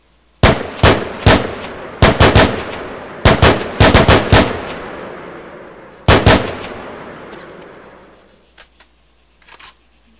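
Burst fire from an M16A4 rifle in the Arma III video game: several loud, sharp bursts of rapid shots with short pauses between them, each trailing into a fading echo, followed by a couple of faint clicks.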